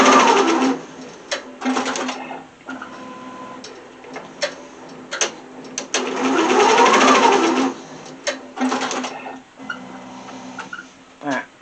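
Sewing machine tacking down elastic on a plush toy, running in short bursts of rapid, rhythmic stitching separated by pauses, one longer run midway, close and moderately loud.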